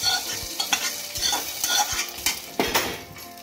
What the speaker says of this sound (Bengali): এবার শাকটা চাপিয়ে আমি রসুনের ফোড়নটা শাকের মধ্যে দিয়ে দেবো